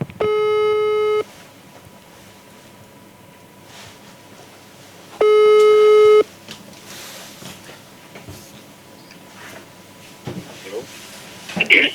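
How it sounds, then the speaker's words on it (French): Telephone ringing tone on an outgoing call to a doctor: two long steady electronic tones about four seconds apart, with a faint hiss between and light background noise near the end. "Donc là, on appelle Dr Yannick."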